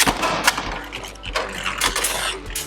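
Beyblade Burst tops launched into a stadium, clashing and rattling with rapid, sharp plastic clacks and bursts of impacts, loud and close.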